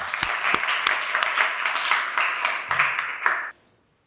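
A classroom of vocational mechanical engineering students in Indonesia applauds together, steady dense clapping for about three and a half seconds before stopping abruptly into near silence.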